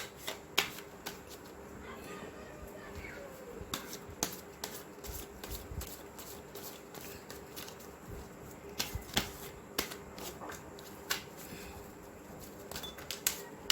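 Cards are shuffled and drawn from a deck with soft, scattered crisp flicks and snaps, quiet and close, spread irregularly throughout.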